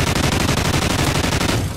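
Rapid automatic gunfire from a helicopter gunner killstreak in Call of Duty Ghosts, a dense, loud burst of machine-gun shots rattling steadily for about two seconds with no talk.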